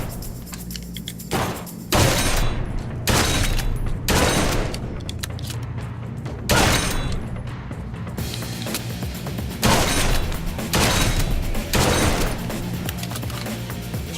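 Gunfire booms repeatedly in the shooter game Blue Estate: loud, heavy blasts land every second or two, each a short burst over a low rumbling background.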